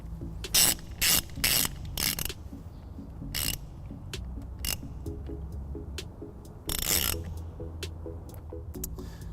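A ratchet cinching down a fuse holder connection during trailer wiring on a 2015 Dodge Grand Caravan: quiet, close clicking bursts in short strokes separated by pauses.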